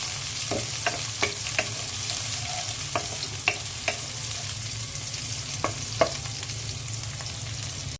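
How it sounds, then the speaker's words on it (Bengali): Onions frying in oil in a cooking pot, a steady sizzle with a low hum beneath and scattered sharp scrapes and clinks of a utensil stirring, no voices. "পেঁয়াজ দিয়ে দিচ্ছি।"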